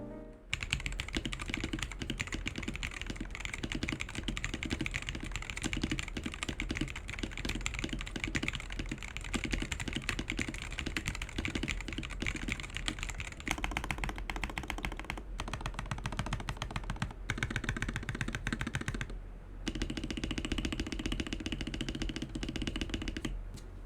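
Rapid, continuous clacking of an Aula Win60 HE mechanical keyboard, stock with pre-lubed stabilizers, being typed on, dense and close, with a few brief pauses.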